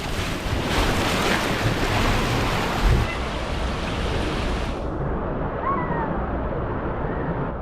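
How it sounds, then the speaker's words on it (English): A rider reaches the splashdown at the end of a water park slide at Wild Rivers in Irvine: loud, close rushing water and wind buffeting, with a sudden surge and then a muffled, lower churning as the rider lands. "And here comes the last little part with the splashdown."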